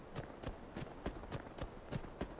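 Horse hooves striking the ground at a steady trot in Skyrim, a series of evenly spaced clopping beats over low background ambience, fairly close and moderately loud.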